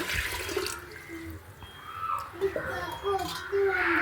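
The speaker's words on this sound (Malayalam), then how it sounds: "ഈ പാത്രത്തിൽ തന്നെ വെള്ളം അളന്നെടുക്കാം കേട്ടോ." Water is poured into a cooking pot for rice at home, a running, splashing stream that comes and goes in short bursts while a person talks nearby.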